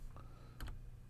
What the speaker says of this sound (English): we just start typing the dimensions